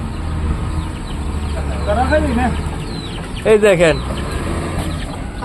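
Desi chickens cluck in short bursts near the listener in a rural yard, with someone talking over them.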